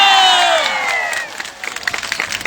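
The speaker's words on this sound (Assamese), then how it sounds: "এটা সুন্দৰ হাত চাপৰি সকলোৰে কাৰণে।" A crowd at a BJP election campaign rally in Sarupathar, Assam cheers and claps, with a high drawn-out shout or whistle at the start giving way to scattered, uneven hand claps.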